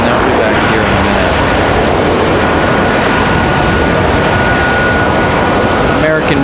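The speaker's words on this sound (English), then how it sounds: "American Blue, the name of our JetBlue A320, again from San Juan, Puerto Rico, pulling up to the gate." A JetBlue Airbus A320 from San Juan, Puerto Rico, taxiing to the gate at Raleigh-Durham International, its engines a loud, steady whine and rumble close by, with a brief burst of other noise near the end.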